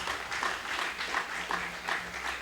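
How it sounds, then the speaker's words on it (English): An audience at an exercise evaluation gathering gives the BCBR a round of applause, with many hands clapping in a steady, moderately distant wash that carries on throughout. "BCBR a round of applause."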